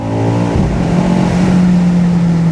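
A 748 hp 2025 BMW XM Label with an Akrapovic exhaust accelerates at full throttle, a loud, close engine roar that climbs in pitch, with an aggressive upshift partway through as it pulls hard.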